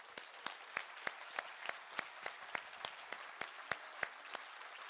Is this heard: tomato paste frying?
no